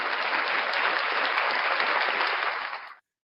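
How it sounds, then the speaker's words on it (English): Loud, dense round of applause from an audience, steady throughout and then cut off abruptly at the end. "Round of applause for everybody, all you wonderful people."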